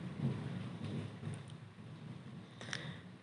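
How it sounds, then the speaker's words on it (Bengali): Heavy rain pours steadily outside, its soft wash broken by low rolls of thunder, muffled and fairly faint as if heard from indoors. "বাহিরে প্রচুর বৃষ্টি হচ্ছে, মেঘের গর্জন,"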